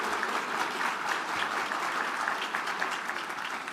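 An audience at a public service award ceremony applauds warmly, even continuous clapping from many hands at moderate level, tapering slightly toward the end.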